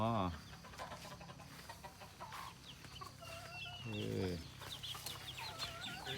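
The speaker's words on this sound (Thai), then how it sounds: "ไก่ออกคอก ไก่ออกคอกครับ" Chickens cluck in bursts on a small self-sufficiency farm, fairly close, with people talking over and between the calls.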